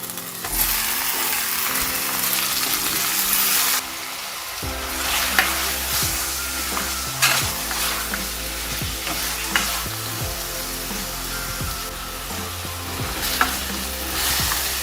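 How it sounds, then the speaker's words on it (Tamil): Marinated chicken added to sautéed onions for a pepper fry, frying loudly in a pan with a strong continuous sizzle, while repeated spatula stirs and scrapes sound close up throughout. "வெங்காயம் வந்து வதங்கி வந்துட்டு ஏற்கனவே மேரினேட் பண்ணி வச்சுக்க சிக்கனையும் இதோட சேர்த்துக்கொள்வோம்."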